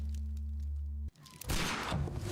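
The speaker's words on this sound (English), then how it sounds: "You heard a gunshot." A single loud gunshot blast from the Sherlock Holmes Crimes and Punishments video game cuts in after a steady low hum drops out, then a noisy rumbling burst follows.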